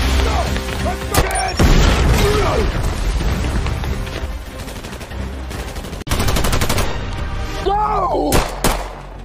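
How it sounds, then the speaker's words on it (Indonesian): Machine gun fire in an action film scene, rapid bursts with booms and crashes loud against a dense cinematic soundtrack, with voices shouting amid the chaos. "Tom dengan machine gun yang dia temukan di dalam gudang berhasil membuat semua orang yang sedang mengejar James langsung tertunduk mencari perlindungan"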